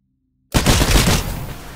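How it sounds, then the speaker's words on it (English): Smart pistol gunfire in the video game Titanfall, a sudden loud dense burst of rapid shots after silence, with a sustained rumbling tail that fades slowly. "Eliminate all of the targets with your smart pistol"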